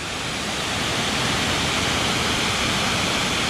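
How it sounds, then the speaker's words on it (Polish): The 27-metre Kamieńczyk waterfall in the mountains near Szklarska Poręba roars as a dense, constant broadband rush of falling water, loud and unbroken throughout with no voices. "Wodospad Kamieńczyka o wysokości"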